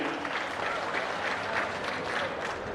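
A crowd of officials at a government review meeting led by Chief Minister Chandrababu Naidu in Kalidindi, Kaikaluru constituency, breaks into continuous, even applause that fills the room, with faint voices underneath.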